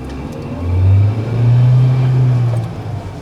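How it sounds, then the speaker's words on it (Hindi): A Mahindra Veero camper van engine revs in Power Plus mode, rising in two loud, close swells of deep, steady engine drone with no voices over it. "मैंने अभी नोटिस किया है कि जैसे हमने पावर प्लस किया इसका आरपीएम बढ़ गया है।"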